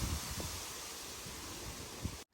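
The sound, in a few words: wind blowing outside, rustling plant leaves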